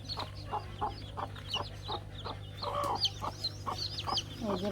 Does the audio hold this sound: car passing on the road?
no